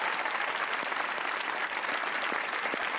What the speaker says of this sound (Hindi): आ जाओ भाई, ताली होनी चाहिए इनके लिए।